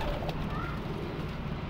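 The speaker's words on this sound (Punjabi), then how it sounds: "ਇਹ ਮਾਸ਼ਾਅੱਲਾ ਕਬੂਤਰ ਜੇ ਵੇਖੋ" Pigeons cooing in a pigeon loft in Faisalabad, Pakistan, a soft steady low coo running throughout at close range with no talk.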